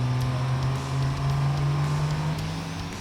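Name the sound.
diesel drag truck building boost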